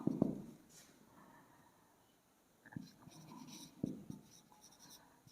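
Pen or chalk strokes writing out a Class 10 maths proof of the converse of Thales' basic proportionality theorem by hand, with short scratchy bursts separated by pauses, moderately close and fairly quiet.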